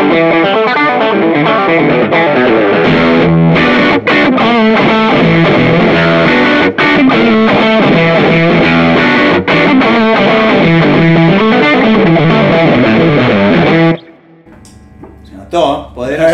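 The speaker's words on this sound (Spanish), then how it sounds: "Arranco con el Tube Screamer." Electric guitar driven through a Tube Screamer overdrive pedal, playing a loud, continuous distorted passage of dense sustained chords and notes that cuts off abruptly near the end, leaving faint scattered sounds.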